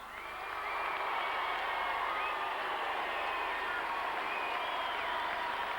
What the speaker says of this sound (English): let us give the Southeast Melbourne Magic one more round of applause.